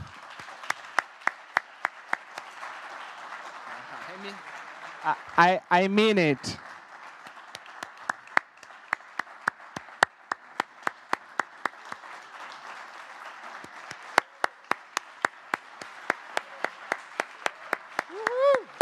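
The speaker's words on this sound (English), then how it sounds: "Please join me with a round of applause to the team." An audience at the Brazil Climate Summit 2023 final remarks applauds the conference team, giving sharp, fairly sparse claps that recur steadily through the stretch, with a short burst of a man's speech near the middle.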